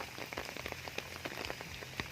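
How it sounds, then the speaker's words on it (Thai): Steady rain patters onto surfaces close by during a bank-fishing outing, a continuous dense hiss of drops with no voices. "แต่ก็ฝนมันตกนะครับ"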